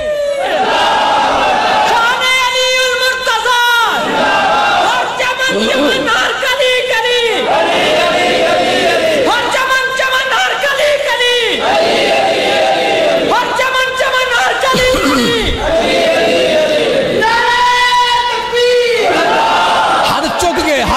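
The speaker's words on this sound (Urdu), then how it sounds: "دوویں ہاتھ چک کے ذرا جواب دینا ہے نعرے دا" At a religious speech gathering in Faisalabad, a large crowd roars back chanted slogans such as takbir in unison, loud rhythmic bursts of massed voices alternating with a leader's shouted calls.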